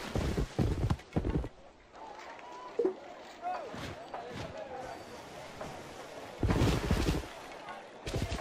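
Hooves clop in bursts amid Civilization Revolution game noise, with a voice talking over parts of the clip and a few louder thuds.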